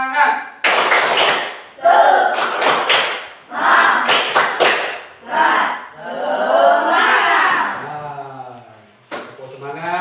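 A school class performs the rhythmic 'tepuk semangat' clapping chant, bursts of loud group claps alternating with shouted chanting voices over about ten seconds.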